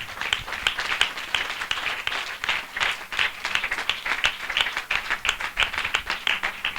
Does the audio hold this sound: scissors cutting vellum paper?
no